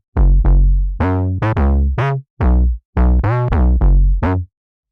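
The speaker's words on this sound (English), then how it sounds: "And that bass line sounds something like this." Synth bass line built from a sine wave through a low-pass filter and FabFilter Saturn saturation, playing about ten loud, short, punchy notes with brief gaps between them, alone with no talk.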